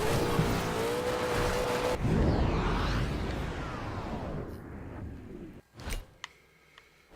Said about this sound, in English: I'm crashing through frickin' vineyards right now